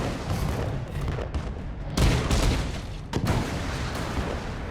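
Cannon crab in Alice Madness Returns firing cannonballs: heavy booming blasts over a rumbling game soundscape, with two sharp louder shots standing out.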